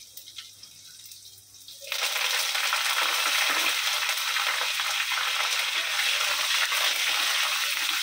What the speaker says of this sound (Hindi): अभी करी पत्ता डालेंगे।